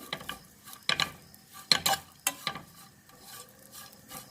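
Four or five garlic cloves roasting in oil for vada pav, stirred with a spoon that clicks and scrapes against the pan in irregular bursts over a faint, steady sizzle.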